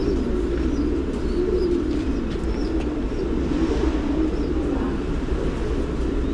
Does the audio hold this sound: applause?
no